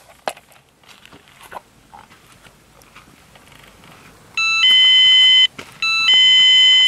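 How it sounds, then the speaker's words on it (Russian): A motion sensor alarm device set to alarm mode gives loud, shrill electronic beeping in two long bursts with a short gap, following a few quiet clicks and handling noises at a fishing camp. "Справа находится кнопка переключения, которая включает режим сигнализации"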